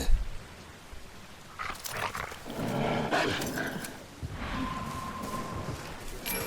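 A hostile dog in the video game Resident Evil 6, graveyard survival mode, snarls and growls amid dense, noisy game sound effects, with rough bursts rising and falling over several seconds.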